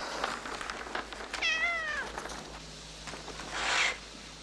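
A cat gives a single clear meow mid-way, close and moderately loud, followed later by a short rustling zip-like noise amid quiet room sound, from a 1988 Italian film.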